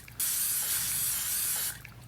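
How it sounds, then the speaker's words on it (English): Cooking spray hissing from an aerosol can onto folded tortillas on a cookie sheet, one steady close spritz lasting about a second and a half. "give them a spritz of cooking spray before popping them in the oven"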